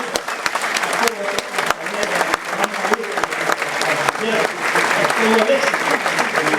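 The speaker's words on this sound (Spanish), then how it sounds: "Démosle un aplauso a todos" An audience at a talk applauds, a dense, steady clatter of many hands that swells slightly toward the end, with a voice speaking over part of it.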